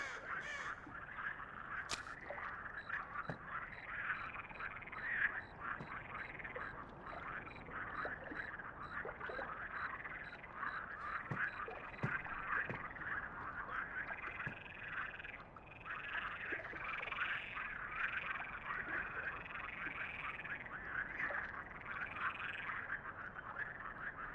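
Frogs croak together in a forest in an unbroken chorus, rhythmic overlapping calls staying fairly close and even in level throughout, with no talking.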